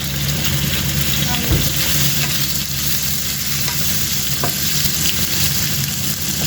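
Salmon and garlic frying in a pan for a creamy carrot pasta, a steady close sizzle running throughout with occasional stirring scrapes and no talk.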